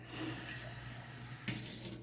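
Water runs steadily from a kitchen tap into a sink while street-cart food is being mixed, a constant soft hiss with a slight splash change near the end and no talking.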